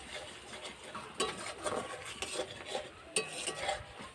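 A spoon stirs and scrapes spice paste, with salt and sugar just added, in a cooking pan for a Bengali doi potol dish; irregular close scraping strokes with a few sharper metallic clinks over a faint sizzle.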